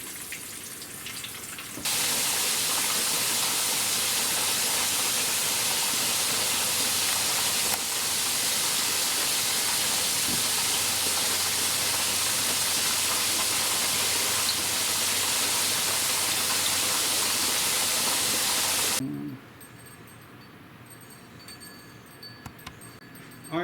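A floured country fried steak drops into a pan of hot oil at about 300 degrees and gives a loud, dense, steady sizzle for around seventeen seconds before it cuts off to near quiet.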